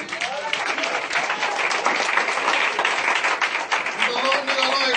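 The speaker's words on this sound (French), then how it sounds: "Est-ce qu'on peut acclamer Jésus?" A church congregation applauds for Jesus during a thanksgiving and deliverance service, with dense, steady clapping from a large crowd that continues throughout, mixed with voices.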